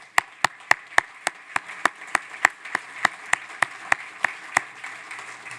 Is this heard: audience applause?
yes